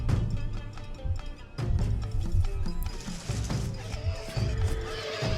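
Horses neigh and whinny amid a busy clatter of hooves and battle crashes, with layered game sounds throughout, in Shogun: Total War.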